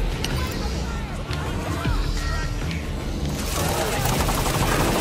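Rapid gunfire in the Halo 5 video game, bursts of automatic weapon shots crackling under ongoing game noise and explosions, with a player talking over the action.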